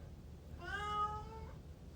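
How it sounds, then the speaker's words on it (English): A single drawn-out cat meow, clear and fairly close, rising then fading over about a second against a low background hum. "Meow."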